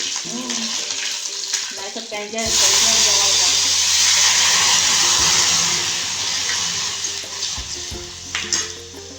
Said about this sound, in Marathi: तडका तुला असाच तडका बसलेला आवडतोय ना